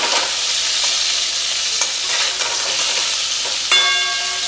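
Cauliflower and potato pieces frying in a pan over a low-medium gas flame, a steady close sizzle with occasional stirring scrapes and a brief metallic ring near the end.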